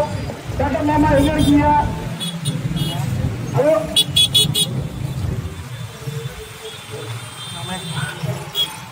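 Heavy traffic on a busy road near the parking areas for the TVK Madurai conference, with car engines rumbling close by and short horn toots breaking through, while people talk over the din.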